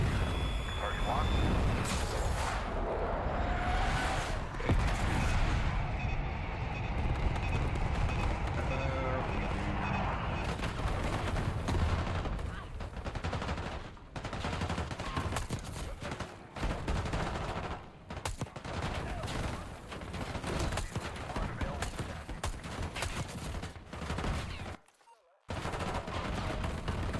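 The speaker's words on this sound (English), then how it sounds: "The airstrike's rolling." An airstrike in Call of Duty: Black Ops 6 lands as loud, dense bursts of gunfire and explosive impacts. The roaring barrage goes on for the whole stretch and stops for a moment just before the end.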